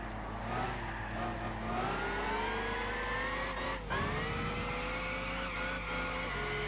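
A Mercedes SLR race car engine passes in a rainy Gran Turismo 6 race, a loud continuous engine whine with rising and shifting harmonics and a brief gear change dip midway.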